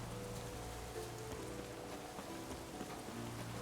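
Rain falling in the video game Witcher 3, a soft, steady hiss of drops on surfaces, faint and continuous, with no voices over it.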